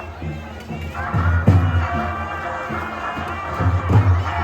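A crowd mills about at a village fair (jatra) with stalls lining the road, a close, lively babble of many voices mixed with a tonal background hum.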